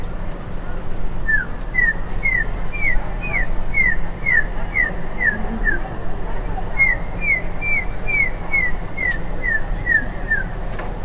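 A voice imitates a golden eagle's call: two runs of soft, high whistled notes, each a rapid series of short descending slurs, over low background noise.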